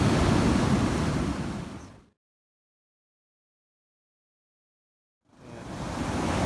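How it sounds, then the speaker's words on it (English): Big Atlantic Ocean waves crash and hiss on a beach near a pier, a loud broadband rush that cuts out completely for about three seconds before returning. "Pretty big waves crashing in still."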